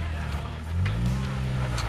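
A vehicle's rear passenger tire digs out of the ground while driving, a loud low engine rumble rising in pitch under talk.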